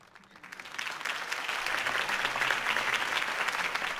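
Steady applause from a sizable crowd in Batman: The Telltale Series, rising quickly after a quiet start and holding at a full, even clatter of clapping.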